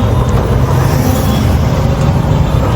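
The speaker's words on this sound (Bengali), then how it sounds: "কি পরিমাণে জ্যাম" Steady low rumble of road traffic in a traffic jam: idling and creeping cars, buses and trucks close by, a continuous dense drone with no breaks and no voices.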